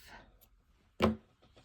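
Scissors snipping off a length of yarn while crocheting a cardigan, a single short, crisp snip near the middle of a quiet stretch.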